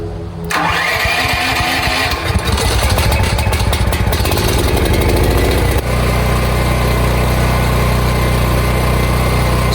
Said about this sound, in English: we got the generators running for about 5 minutes